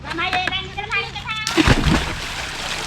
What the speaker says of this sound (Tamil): சின்ன ஆண்டுகள்லாம் நீச்சல் அடிச்சு ஃபன் எடுத்துட்டு இருக்காங்க